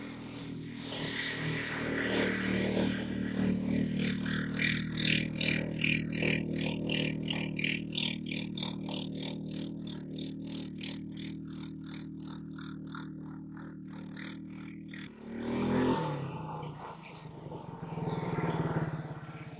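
A Trail Buck 650 four-wheeler, running in low gear, churns through mud with a steady engine drone and a rapid, pulsing mechanical chatter, then surges briefly in revs near the end.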